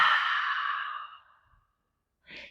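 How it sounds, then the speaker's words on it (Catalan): A deep yoga exhale through the open mouth, a long breathy whoosh that fades over about a second and a half, followed by a brief breath sound after a pause. "obres la boca i expires."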